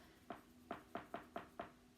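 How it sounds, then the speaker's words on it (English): A creaky wooden floor gives six short, sharp creaks in quick, slightly uneven succession, faint and close in an otherwise quiet room. "Oh, that's my creaky floor, sorry."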